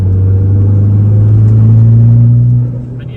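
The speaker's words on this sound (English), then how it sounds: "But just listen to the turbo," Turbocharged Honda S2000 making about 400 horsepower, its engine droning loud and steady with a rising turbo spool, then easing off near the end.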